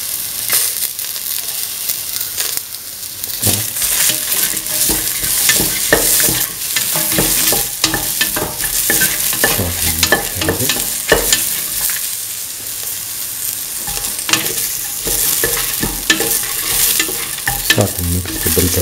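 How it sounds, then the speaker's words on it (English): Red and green chilies stirred in a frying pan for a cauliflower, bell pepper and coconut milk stew: close, steady sizzling with repeated scraping and clacking stir strokes throughout, no talking. "Start to mix a bit of the red and green chilies."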